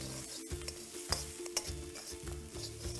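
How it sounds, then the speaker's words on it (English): Capsicum and chilies stir-fried over a high flame for crispy corn chilli, sizzling loudly and close with quick, rhythmic scrapes and clacks of the spatula, no one speaking. "Now we will stir fry this together for about a minute in high flame."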